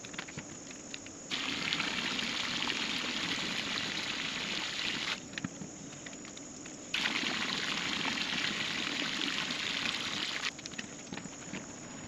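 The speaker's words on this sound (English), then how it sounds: "So I just dropped 3 gallons in to the pool of chlorine" Liquid chlorine, three gallons of it, poured into a backyard swimming pool gives a steady hissing, trickling rush that runs continuously and swells in two long stretches, with faint insect chirping in the background.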